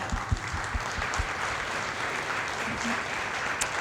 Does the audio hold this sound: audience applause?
yes